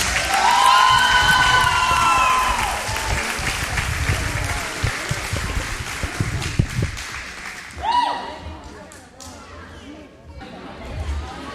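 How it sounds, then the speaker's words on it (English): An audience at a varsity girls' volleyball match in a school gym applauds and cheers for the seniors, with loud clapping, whoops and shouts that fade after several seconds into scattered claps and crowd chatter. "Please give our seniors a round of applause."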